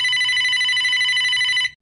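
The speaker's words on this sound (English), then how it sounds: "Whose phone is that? That's the second time it went off." A mobile phone ringtone trills steadily for almost two seconds in a quiet room, a bright repeating electronic melody that cuts off abruptly at the end.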